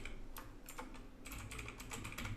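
Fingers type on a computer keyboard, entering an email address in quick, irregular bursts of soft clicking keystrokes, close and faint with no voices.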